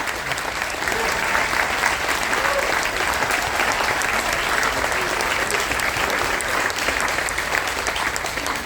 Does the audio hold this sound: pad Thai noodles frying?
no